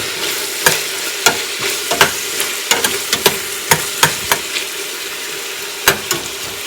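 Garlic and ginger fry in a pan, with a soft steady sizzle under sharp, irregular clacks of a utensil scraping and tapping as it stirs, close and fairly quiet.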